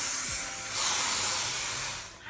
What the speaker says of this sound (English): you need to ensure that you spray midsection to the ends